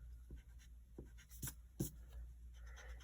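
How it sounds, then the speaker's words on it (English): An eraser rubbing out pencil lines on paper while drawing a tiered cake, soft scratchy strokes in a quick uneven rhythm, faint and close against a low background hum. "then you need to erase the part that is inside of the cake"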